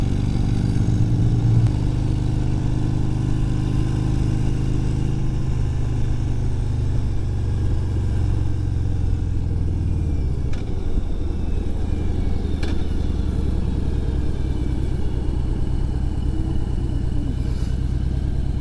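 A motorcycle pulling a Kompact Kamp Mini Mate camper trailer climbs over Monarch Pass on the Continental Divide in Colorado, its engine a steady close drone with rumbling road and wind noise throughout, pitch dipping midway as it shifts.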